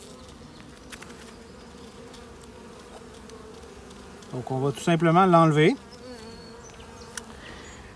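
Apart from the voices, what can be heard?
honeybees buzzing at open beehive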